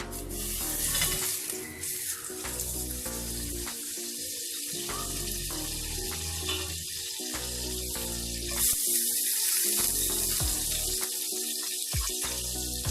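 A large spoonful of butter melts into hot oil in a pan, giving a steady, close sizzle and crackle with bursts of frying hiss and some clinking from stirring.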